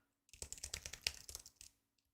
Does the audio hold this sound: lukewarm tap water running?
no